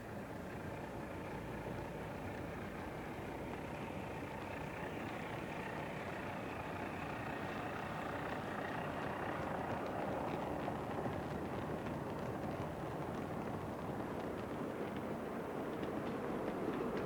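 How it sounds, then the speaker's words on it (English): A 7mm scale model LMS Class 8F steam locomotive pulls a mixed goods train through a station, a steady faint rolling rumble and clatter that grows slightly busier as it passes. "through the station comes a mixed goods train pulled by an LMS Class 8F"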